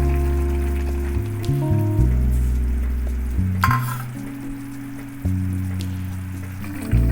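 Turmeric water goes into a simmering pot of bottle gourd greens curry with fried brinjal and chana dal fritters, giving a soft steady bubbling sizzle with a brief splashy pour partway through, close and unaccompanied by talk.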